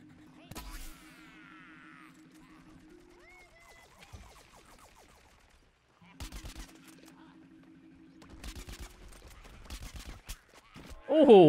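Gunfire in the video game Plants vs Zombies Garden Warfare: rapid bursts of shots and blasts mixed with synthetic game tones and chirps, moderately loud, with a dense burst near the end.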